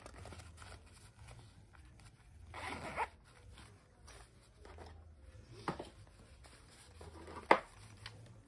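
A zipper on a small handmade doll bag is worked in short bursts, several quick rasping zips spaced apart with quiet handling between, close and crisp, the sharpest pull near the end.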